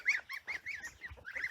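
Geese on a farm honk close by in a quick series of loud, rough calls, several overlapping honks in a row.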